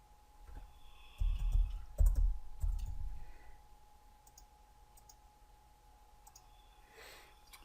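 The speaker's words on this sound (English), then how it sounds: "I'm going to right click," Computer mouse clicks, a few soft close clicks and light taps in a quiet room with faint background hum.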